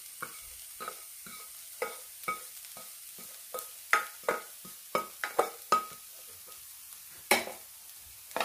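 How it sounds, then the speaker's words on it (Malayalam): Bitter gourd thoran is stirred in a pan after ghee-roasted coconut goes in, with a spoon scraping and knocking in irregular strokes over a soft, steady sizzle. "ഇതെല്ലാം കൂടി ഒന്ന് യോജിപ്പിച്ചെടുക്കണം."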